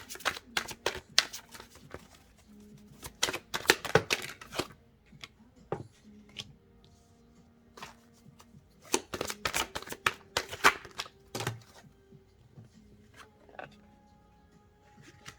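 Tarot cards are shuffled by hand in close, crisp bursts of riffling and slapping, separated by quieter pauses.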